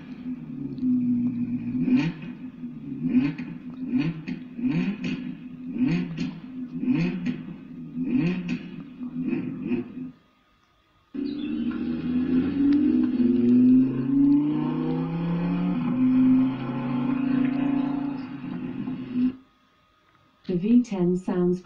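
An Audi R8 V10 engine sound played back through an Alexa smart speaker: a run of sharp revving blips, a pause, then a sustained rising roar, heard as tinny speaker playback in a room with voices around it.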